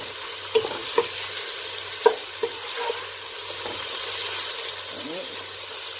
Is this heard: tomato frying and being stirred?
yes